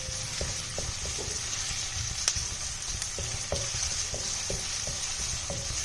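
Small chopped onions fry in a pan until brown for a makhana masala curry, with a steady close sizzle and regular light taps and scrapes of stirring.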